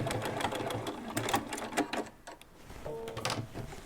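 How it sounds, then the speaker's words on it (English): A sewing machine back-stitches over the last seam of a quilted placemat, with close, steady runs of rapid mechanical stitching and short pauses between them. "We're just going to go over our previous stitching, back stitch a few stitches,"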